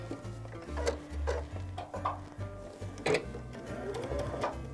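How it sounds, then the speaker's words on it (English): A sewing machine stitches a seam down the side of toweling fabric for a bow pillow, running in short bursts with brief pauses and a steady mechanical hum, close and fairly clear. "And then we're just going to sew down that side."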